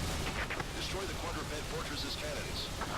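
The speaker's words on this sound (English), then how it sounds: "I'm shooting a cannon that glows red when I shoot it." Red-glowing cannon fire in the co-op shooter Earth Defense Force 4.1, heard as repeated booming shots and bursts in a dense, busy mix with a voice talking throughout.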